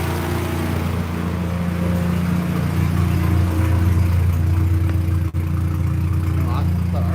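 Car engine of a vehicle being tested before its first drive, idling with a steady low drone and a couple of mild revs swelling slightly, close by, with a brief dropout near the end.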